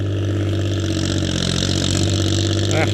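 A Kubota L3608SP tractor engine runs steadily under load while driving a rotary tiller in a field, a loud, continuous close drone with an even rhythmic chug throughout and no talking.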